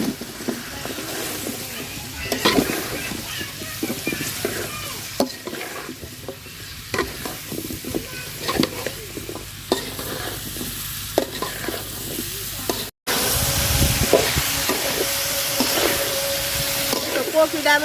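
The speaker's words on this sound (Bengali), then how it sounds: "তো কপিটা আমি সুন্দর করে কষায় নিছি।" Cauliflower is stir-fried with spices and green chillies in a pan for a prawn curry. Steady sizzling and frying run throughout, broken by repeated scraping stirs of a spoon, with a brief cut before the frying resumes louder.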